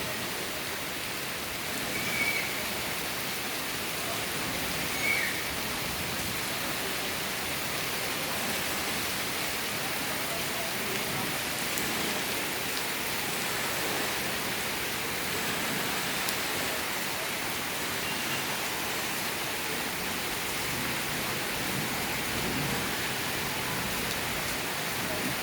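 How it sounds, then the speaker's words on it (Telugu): Very heavy rain pouring onto leaves and streaming along roads below a balcony, a dense, unbroken roar of falling water that stays loud and even throughout, with no one talking. "ఆకుల మీద నీళ్లు, వర్షం నీళ్లు తలతల్లాడుతూ చాలా అందంగా ఉంది."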